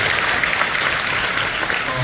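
Brief burst of audience applause at a company presentation, dense even clapping filling the whole moment without pause.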